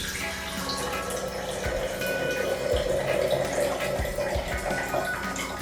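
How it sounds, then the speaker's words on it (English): Green wheatgrass juice poured through a strainer top into a jar, a soft continuous trickle and splash with a few small knocks, fairly quiet and without talking. "we're just going to pour the juice from here right into our other jar"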